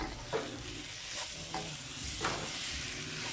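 Korean fishcake and luncheon meat stir-fry with honey in a pan, a soft, low sizzle under repeated scraping and stirring strokes of a utensil, close and without talk.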